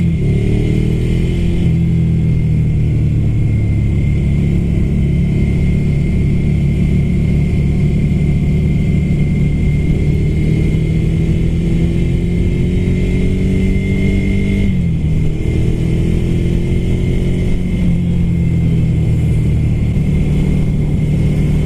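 Ducati Scrambler Flat Track motorcycle engine pulling on a ride, a loud, continuous close rumble with rising and falling revs as it accelerates and briefly eases off midway, with steady wind noise.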